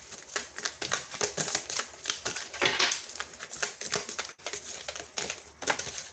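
Tarot cards are shuffled by hand close to the mic, giving quick bursts of papery riffling and soft clicks in irregular clusters, with a brief pause partway through and no voice.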